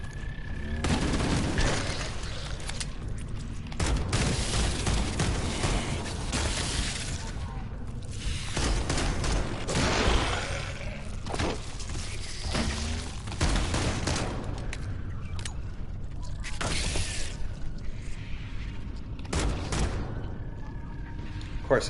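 Heavy gunfire in Halo: Campaign Evolved, with dense bursts of shots, booms and explosions, nearly continuous and loud throughout, while a voice talks now and then.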